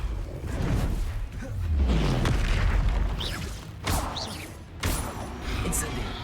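Repeated spell blasts from Confringo, Levioso and Incendio casting in Hogwarts Legacy, loud booming bursts and whooshes in a dense, continuous stream of game effects, with a sharp impact near the end.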